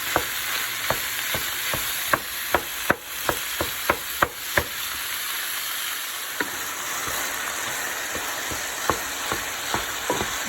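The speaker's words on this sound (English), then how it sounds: "Break down the ground beef nicely and saute it for about 5 minutes." Ground beef sauteing in a pan, a constant close sizzle with regular sharp scraping taps as it is stirred and broken down, the taps briefly thinning out midway before resuming.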